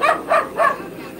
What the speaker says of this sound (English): The neighbor's dog is so annoying.